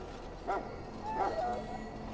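A war dog in Dragon Age: Origins gives two short, yelping barks about a second apart, close and fairly clear, with a low whimpering tone trailing after the second.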